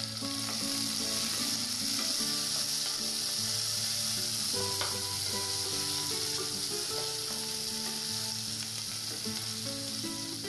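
Onion and green chilli sizzle steadily in hot ghee or oil for coconut milk rice, a dense, continuous frying hiss with faint stirring clinks, close and fairly loud throughout, no voices.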